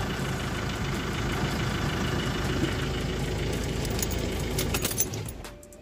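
An Opel Vivaro van engine idles right after a battery replacement, a steady, fairly loud low rumble with faint knocking texture that runs continuously before dropping away near the end.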